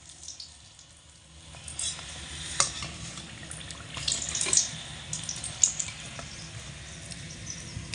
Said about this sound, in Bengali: এভাবে করে একটু লাল লাল করে ভেজে নিতে হবে